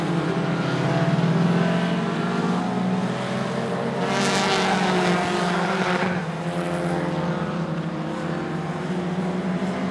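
Race cars roar around a short oval track in a super short track series, a loud continuous engine drone that swells as a car passes close by, with no voices over it.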